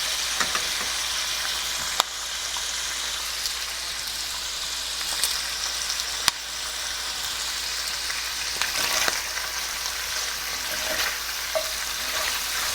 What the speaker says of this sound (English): You'll want to let it cook on one side until it gets a good brown crust in there.